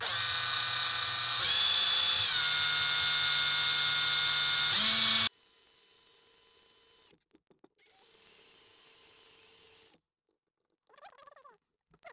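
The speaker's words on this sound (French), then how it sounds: "on va y aller à la grosse perceuse" A large site power drill fitted with a metal bit bores into metal, whining loudly and steadily for about five seconds at two speeds, then cuts off, followed by quieter mechanical hum and brief faint rustling.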